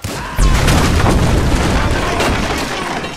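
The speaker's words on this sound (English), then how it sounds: "Shoot up that canister!" An exploding canister in Grand Theft Auto 5: a sudden loud boom that settles into a sustained roaring rumble and crackle lasting several seconds.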